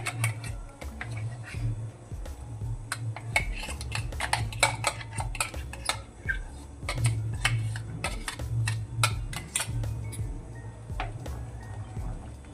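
A spoon stirs custard powder into milk, ticking and clinking against the bowl in quick irregular strokes, close and fairly steady over a low background hum.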